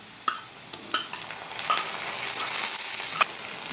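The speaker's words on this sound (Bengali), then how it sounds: "পেঁয়াজটা হালকা করে ভেজে নিয়েছি, দিয়ে দেবো আদা রসুন বাটা," Onion frying lightly in a pan as ginger-garlic paste goes in for a small-shrimp (kucho chingri) curry, a steady soft sizzle broken by a few sharp clinks and scrapes of a stirring spoon, close and moderately quiet.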